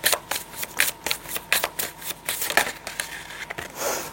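Tarot cards are shuffled and handled, producing a rapid series of crisp flicks and slaps, irregular but continuous, close and clear with no talking over them.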